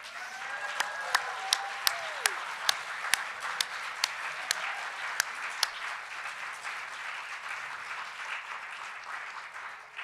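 A graduation ceremony audience claps in a ballroom, producing sustained, moderately loud applause with sharper individual claps standing out early before the clapping evens out and fades.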